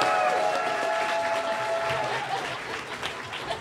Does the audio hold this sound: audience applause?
yes